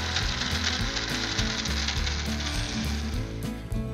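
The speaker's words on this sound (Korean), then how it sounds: "고구마 안에 들어갈 속재료 고구마도 믹서기에 이렇게 잘 갈아졌고요" A blender grinding sweet potato runs steadily and loudly close by, its motor droning and grinding continuously with slight pitch shifts.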